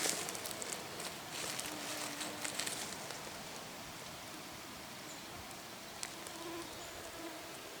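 Faint, thin mosquito buzzing hovers around the listener in tall grass near an oak forest, with soft rustling in the background and no talking.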